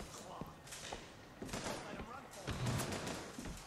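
Distant gunfire in the video game Bioshock Infinite crackles in several scattered bursts, fairly quiet beneath game ambience and some talking.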